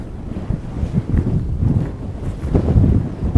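Steady wind buffeting the microphone outdoors during hay making, a low rumbling roar that swells and gusts throughout, with no voices.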